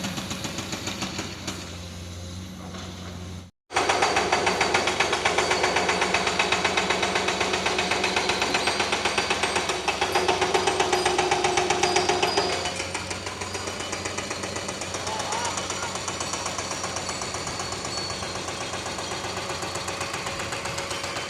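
Steady, loud mechanical construction racket, engine droning with rapid hammering rattles, cutting out briefly for a moment before resuming and continuing unbroken.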